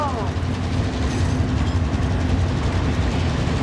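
A train rumbles past with a heavy low engine drone and steady rolling clatter in the video game Call of Duty Modern Warfare, loud and continuous, with a player talking over it.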